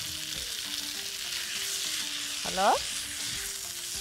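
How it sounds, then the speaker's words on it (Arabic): Shrimp sizzling steadily while being stirred and fried in a pan, with lemon added, a continuous close frying hiss and a brief scrape of stirring; someone speaks briefly over it. "بس دلوقتي الجمبري اهو بقلبه خلاص"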